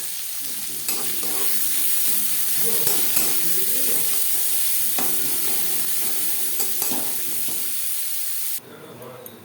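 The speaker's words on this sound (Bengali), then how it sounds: "এবার দিয়ে দেবো পেঁয়াজ আর দুটো কাঁচা লঙ্কা পেঁয়াজ ভেজে নেব" Onions and two green chillies frying in mustard oil, a steady loud sizzle with the scrape of a spoon stirring throughout, cutting to a quieter sizzle near the end.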